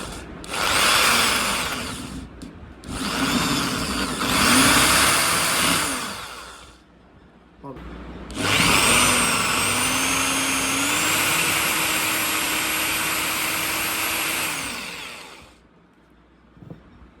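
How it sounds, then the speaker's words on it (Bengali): An inexpensive cordless power drill bores a hole in three whining bursts, the motor rising in pitch as it speeds up, with the longest run lasting about seven seconds before it winds down. "এইটা আমরা একটু ড্রিল করার চেষ্টা করব।"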